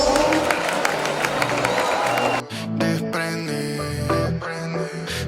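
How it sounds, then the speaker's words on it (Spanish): A school carnival audience applauds and cheers for a class's TV-shows costume entry, a dense wash of clapping and crowd noise that drops briefly midway, then music with crowd sound carries on. "Ese aplauso para Cuarto A con su propuesta Programas de Televisión."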